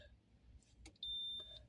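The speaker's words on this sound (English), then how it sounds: "So that's what that beep was, just letting you know it's ready for action." A Vango Sizzle low-wattage portable induction hob, powered from a 1000-watt inverter, gives a single high ready beep lasting about half a second. A couple of faint clicks come just before it in a quiet room.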